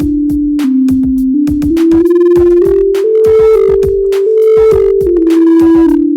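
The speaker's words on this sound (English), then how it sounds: "So the fader sine is a sine wave, so it's an actual sine wave." A Pioneer DDJ-REV7 DJ controller's fader sine effect plays a loud, pure sine tone that steps up and down in pitch as the fader moves, with rhythmic clicks and bursts of buzzy harmonics around it.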